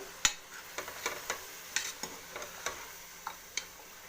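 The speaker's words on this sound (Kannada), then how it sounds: "ಇವಾಗ ಇದಕ್ಕೆ ಬೀಟ್ರೂಟ್ ಮತ್ತು ಬೇಳೆ ಹಾಕೊಳ್ಳೋಣ" Beetroot and lentils tipped into a cooking pot, followed by a run of sharp, irregular clinks and scrapes of a spoon stirring against the pot over a faint sizzle.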